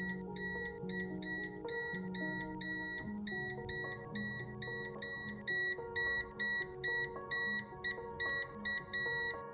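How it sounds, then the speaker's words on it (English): A Klein multimeter in audible continuity mode gives a steady series of short, bright electronic beeps in an even rhythm, close and clear over soft background music. "This mode simply tests if a circuit is closed, and if so, will emit an audible beep to indicate the path is good."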